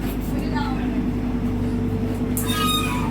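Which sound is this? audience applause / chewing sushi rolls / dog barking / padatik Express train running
padatik Express train running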